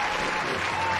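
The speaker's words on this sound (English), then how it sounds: "The crowd goes nuts." A crowd at an arena event bursts into dense, loud applause and cheering that fills the whole moment without pause.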